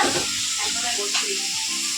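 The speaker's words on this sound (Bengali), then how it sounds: "বেগুন ভাজা হচ্ছে সকালবেলার জন্য" Eggplant slices (begun bhaja) fry in a pan with a steady, close hissing sizzle throughout, with faint clinks and some background voices.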